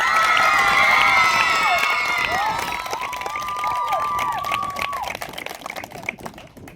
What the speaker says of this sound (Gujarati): ખૂબ જ આપણે તાળીઓથી વધાવીએ કે કેપ્ટન ઋત્વિક કેપ્ટન